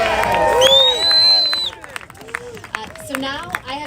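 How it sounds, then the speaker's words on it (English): A rally crowd outside the US Capitol claps and cheers loudly in a dense burst that fades after about two seconds, leaving scattered claps, crowd murmur and a voice over it. "Let's give another round of applause."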